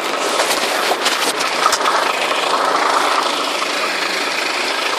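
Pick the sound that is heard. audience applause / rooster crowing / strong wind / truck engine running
truck engine running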